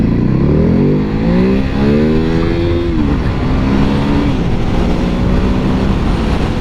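A Ducati Hypermotard 950 motorcycle engine revs loudly and close up in Thailand, rising through a couple of pitch sweeps before settling into a steady drone.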